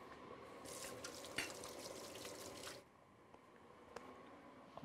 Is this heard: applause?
no